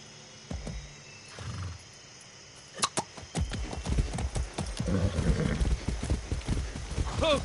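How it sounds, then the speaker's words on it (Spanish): Horse hooves clip-clop in the video game Far Cry 6, a rhythmic run of hoofbeats building after a quiet start, with a whinny and a voice speaking over the riding. "Sé bueno, caballo."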